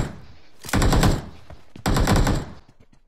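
Automatic gunfire in the mobile battle royale game PUBG Mobile: two loud bursts of rapid shots, each about a second long, close and with no talk over them.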